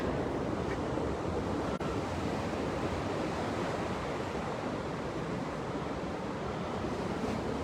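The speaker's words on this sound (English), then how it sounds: "we have the constant accompaniment of the sound of the sea" Steady roar of sea surf washing onto the shore at Putty Beach, Bouddi National Park, New South Wales, continuous and broad, with no voices.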